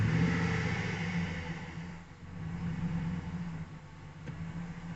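A 5.3 engine with an electric throttle runs close by, holding a rough, steady rumble that rises and dips in light revs with a brief lull midway and no talk.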